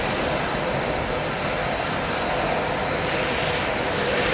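Malaysian Airlines Airbus departing Heathrow Airport in the evening, a loud, steady, broad jet engine roar that holds evenly throughout with no voices.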